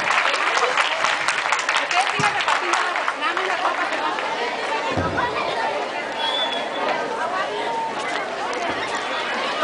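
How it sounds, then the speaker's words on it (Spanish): A crowd applauds a dance teacher at an outdoor Tahitian children's dance performance on a seaside promenade, with steady, dense clapping that stays loud for about ten seconds, mixed with crowd chatter and background murmur. "un fuerte aplauso para ella"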